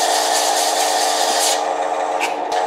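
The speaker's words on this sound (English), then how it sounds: "So the sanding process takes a little while." Steady, continuous rasping of sandpaper rubbed against a turned wooden pen, a close, even scratching that softens briefly near the end.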